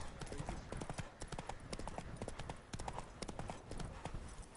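Horse hooves clip-clop steadily at a riding pace in The Witcher 3, a close, regular rhythm of hoofbeats with a short whinny-like touch and faint talk nearby.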